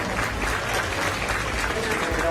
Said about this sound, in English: let's give these kids a round of applause